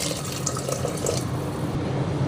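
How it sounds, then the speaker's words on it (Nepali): Water pours into a cooking pot of fish and lemongrass for Mohinga, the Burmese fish soup. A steady, close splashing gurgle runs throughout at moderate volume, with no voices. "अब पानी एड गर्ने यसमा।"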